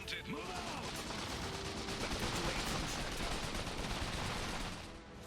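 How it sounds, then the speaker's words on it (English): A light machine gun in the strategy game Iron Harvest fires sustained rapid bursts, a dense continuous rattle that stays loud and steady for several seconds before dropping away at the end. "That light machine gun's doing work."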